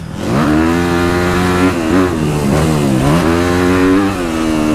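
A dirt bike engine on a motocross track revs loud and close, its pitch climbing and dipping as the rider shifts between second and third gear, with the harmonics wavering through each change.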